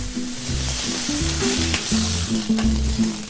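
A beef steak pan-frying toward rare gives a loud, continuous close sizzle that fills the whole stretch, with a tonal melodic line running underneath it.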